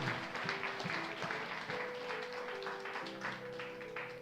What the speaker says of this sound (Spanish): Vamos, den un fuerte aplauso